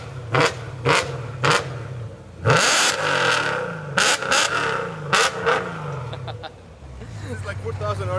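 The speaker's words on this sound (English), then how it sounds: "Supercharged with methanol injection and a very loud exhaust." A supercharged Porsche 997 GT2 with methanol injection and a very loud exhaust revs in repeated sharp blips, then one longer surge and more short bursts, close and loud, with people talking between the revs.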